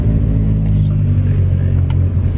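Toby's falling-apart, amateur-modified car drives along with a steady low engine rumble and road drone from inside, occasional faint knocks over the continuous hum.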